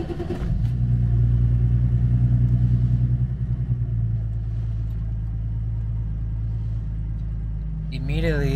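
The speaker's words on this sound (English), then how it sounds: "So let's start it up." A BMW E34 M5 engine with a standalone ECU cranks and catches, briefly rising before settling into a steady, low idling rumble that continues to the end.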